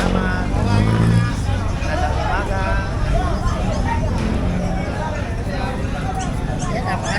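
Busy street traffic with cars, buses and trucks rumbling past, a steady close wash of engine noise under background crowd chatter at a pet market, with people talking nearby throughout.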